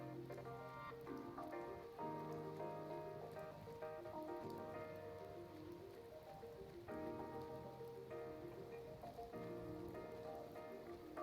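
Rain falling in the game Blue Reflection, a soft, steady patter that stays quiet and continuous beneath gentle sustained background music.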